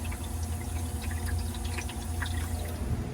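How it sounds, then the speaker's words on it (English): A Hoshizaki ice machine refilling with water, a steady low hum with soft trickling and dripping water sounds running continuously throughout. "Now we're filling with water again, you can hear it."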